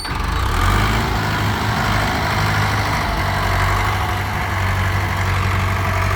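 A tractor's heavy diesel engine idles steadily with a deep, continuous rumble and throb, loud and close, no voices.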